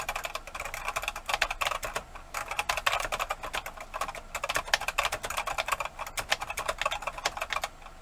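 Rapid, steady typing on a vintage mechanical keyboard in a workshop, with crisp clacking keystrokes close up, dense and continuous, with only short pauses between bursts and no talking.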